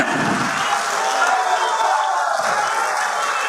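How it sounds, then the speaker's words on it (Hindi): A large crowd roars and claps in a dense, steady wash of sound at a BJP Vijay Sankalp rally in Ellenabad, welcoming Chief Minister Manohar Lal. The noise is loud and continuous throughout. "जोरदार तालियां अभिनंदन में।"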